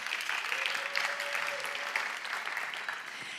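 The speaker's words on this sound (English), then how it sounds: "let's have some applause" Conference audience applause, steady moderate clapping from a crowd lasting a few seconds with no voices over it.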